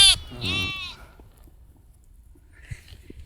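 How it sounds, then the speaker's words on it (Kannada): A single sheep from a flock of about 150 bleats loudly and close, a wavering cry at the start, followed by quiet with faint distant bleats and small noises. "ನಿಮ್ಮವಪ್ಪ ಈಗ 150 ಕುರಿ"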